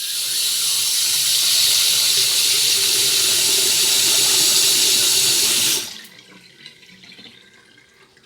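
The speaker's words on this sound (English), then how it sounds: "That one, I'm actually going to want to put under the sink for a bit of water." Tap water running steadily into a bowl in a kitchen sink, a loud continuous gush that stops abruptly near the end, leaving faint drips and small clatters.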